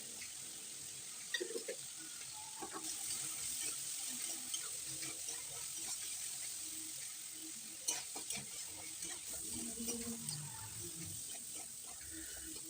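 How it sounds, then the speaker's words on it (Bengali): Green peas fry in a pan with green chili, salt and turmeric, a steady close sizzle with watery crackling and intermittent clatters of stirring. "লবণ এবং হলুদ দিয়ে বেশ কিছুটা সময় ভেজে নেব।"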